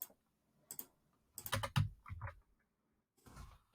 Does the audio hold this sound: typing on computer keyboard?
yes